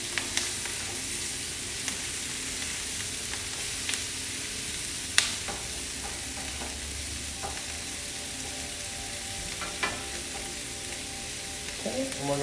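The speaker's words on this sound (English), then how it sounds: "so while your Brussels sprouts are cooking" Brussels sprouts fry and char in a pan, giving a faint, continuous sizzle with scattered small pops and clicks of stirring over several seconds.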